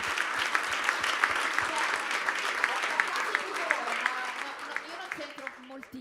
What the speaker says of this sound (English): Beh, direi un applauso